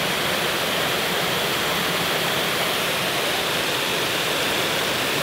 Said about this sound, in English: Now over there, as you can see, there are two waterfalls